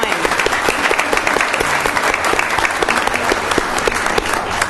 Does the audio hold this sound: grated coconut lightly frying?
no